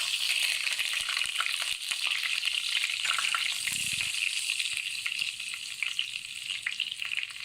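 A tablespoon of butter melts in about a quarter cup of hot oil in a pan, giving a steady close crackling sizzle throughout with faint stirring knocks and no voices.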